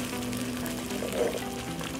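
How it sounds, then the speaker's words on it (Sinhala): Milk bubbling and boiling up in a pot on the stove, a steady soft sizzling, frothing hiss close by with no voices. "දැන් මේකත් කිරි ටික උතුරන් දානවා"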